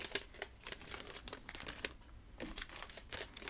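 Greeting cards slid out of small paper envelopes, a close run of dry crinkling and rustling bursts, some sharper crackles, and no talking.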